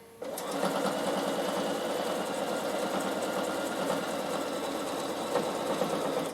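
A Bernina sewing machine stitches lace in a fast, steady mechanical whir that begins after a short quiet moment and runs continuously at close range.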